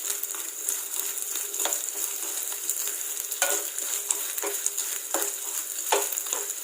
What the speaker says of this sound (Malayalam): നന്നായി ഇളക്കിയിട്ട് മൂപ്പിച്ചെടുക്കണം നമുക്ക്.